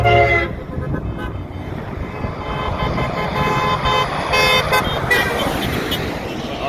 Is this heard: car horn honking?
yes